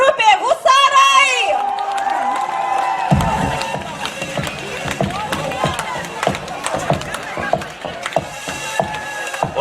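Audience clapping and cheering swell to greet a band at the Jungėnai village summer festival, a sustained crowd roar with scattered claps, joined by an announcer's voice near the start and then music as the band begins.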